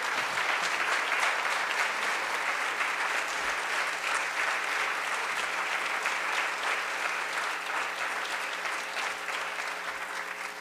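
An audience applauds at a museum evening with poet Robert Pinsky and Gail Mazur, a dense, even wash of many hands clapping that continues steadily and eases slightly toward the end.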